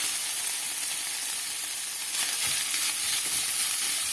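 Steady, bright sizzling of onions frying with chicken in a hot pan for fajitas, a constant crackling hiss with a few soft stirring scrapes.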